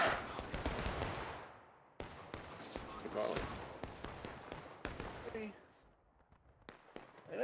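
Musket volleys crack out in the American Civil War game War of Rights on the Bloody Lane map: several loud, broadband shots in separate clusters, each trailing off in a rolling decay, with shouted voices mixed into the din.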